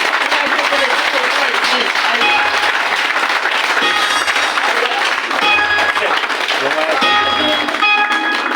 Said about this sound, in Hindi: DXL के लिए जबरदस्त ताली होनी चाहिए